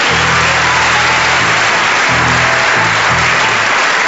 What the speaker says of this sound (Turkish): Suzan, alkışlarla gel.